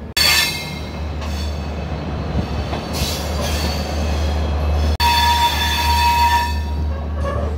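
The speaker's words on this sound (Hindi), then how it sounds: "टाइम से कुछ टाइम पहले ही हमारी गाड़ी आ गई है बठिंडा पे" The Tripura Sundari Express passenger train rolls into Bathinda station, a loud, steady low rumble of wagons with high metallic wheel squeals rising and fading throughout.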